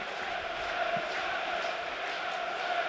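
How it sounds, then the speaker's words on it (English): A football crowd at Leeds United against Swansea City cheers as Tanaka comes on as a substitute, a steady broad roar of many voices at a distance, even and sustained. "the crowd are cheering him as he takes his top off"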